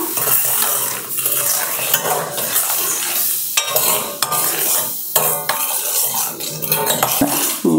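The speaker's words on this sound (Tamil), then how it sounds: "சேர்த்துட்டு கைவிடாமல் நல்லா கிளறுங்க" A henna hair dye decoction being stirred continuously in a pot, with loud scraping and clattering of a spoon against the metal and a bubbling sizzle under it.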